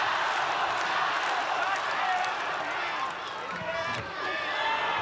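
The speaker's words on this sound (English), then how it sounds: "Crowd rallying again for Joshua Pacio." A fight crowd cheers and rallies loudly for a fighter, a continuous roar of voices and clapping that dips briefly near the end, with a commentator talking over it.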